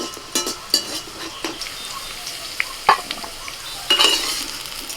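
Small-cut Chandramukhi potatoes frying in hot oil, a steady sizzle broken by sharp scrapes and clinks as a utensil stirs the pan, close and fairly loud with no voices.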